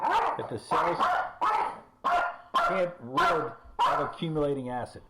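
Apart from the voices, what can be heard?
dogs barking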